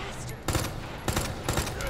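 Gunfire in the video game Resident Evil 2 Remake, three separate sharp shots spaced roughly half a second apart, fairly quiet and without speech.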